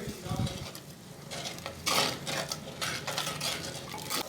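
Mutton in a clay pot handi is stirred together with turmeric and dry coriander powder. A spoon scrapes and clinks against the pot over a soft, steady sizzle, with no speech.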